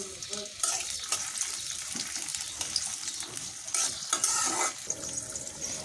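Onions frying in oil in a wok with whole fenugreek seeds sizzle steadily and fairly loudly, with stirring scrapes and a brief surge of hiss partway through.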